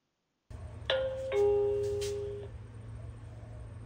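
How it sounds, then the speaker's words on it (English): A Tuya smart doorbell chimes once with a clear two-tone electronic ding-dong that rings out and fades slowly over a faint steady hum, with no talking. "Once you ring the doorbell now"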